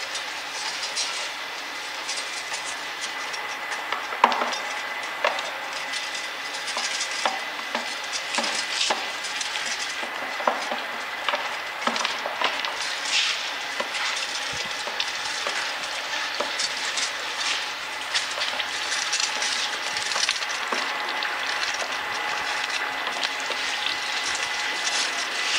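A 5 HP coconut oil expeller machine runs steadily with a continuous mechanical rattle and grinding hum, dense clicking texture throughout, close and moderately loud with no voices.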